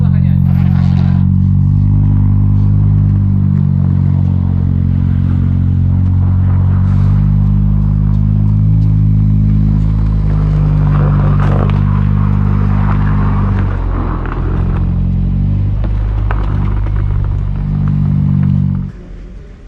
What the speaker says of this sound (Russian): автомобиль запустился, поехал, правда без глушителя, поэтому такой грозный выхлоп